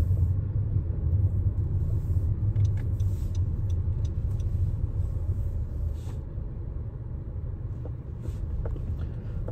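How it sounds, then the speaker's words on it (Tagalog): A car slowly pulling into a home garage, its steady low engine rumble continuous and close throughout, with a few faint ticks and clicks above it and no talking. "Pasok ko na ang kanyang sasakyan sa garahe."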